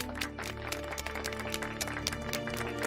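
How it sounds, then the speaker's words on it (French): Continuous crowd applause, a dense wash of clapping from many hands that holds steady throughout. "Donnons à Ivy une salve d'applaudissements"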